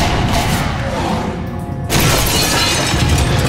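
Heavy rifle rounds loaded with HMX explosive smash through thick walls in an audio-drama battle scene, a dense roar of shattering debris with a brief dip before a renewed loud crash that holds on, with no voices.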